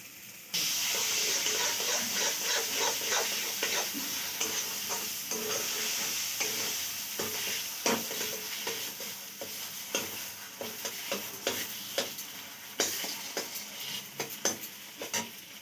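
Food sizzles loudly in a hot pan under constant stirring, with frequent scraping and clinking from the utensil against the pan.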